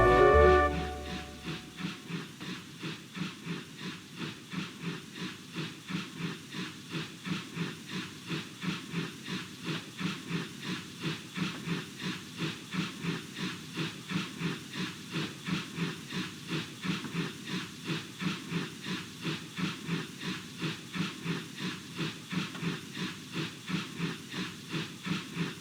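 A small steam engine chuffs along rails in a steady, regular rhythm of hissing puffs, with a louder burst at the start settling into an even, moderately quiet beat.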